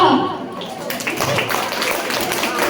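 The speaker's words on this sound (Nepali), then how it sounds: "यस्तो राम्ररी सरले म्याथ पढाएकोमा उहाँहरूको लागि ताली बन्छ।" Students in a Bal Uddhar School class clapping for their Vedic mathematics teacher, a dense, steady patter of many hands filling the room at close range with a few voices mixed in.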